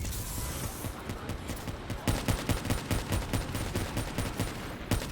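Rapid gunfire in the video game Black Ops 3 during a campaign mission, a dense stream of sharp automatic shots rattling continuously, louder and more evenly spaced after the first second.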